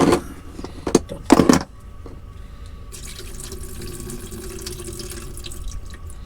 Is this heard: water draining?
yes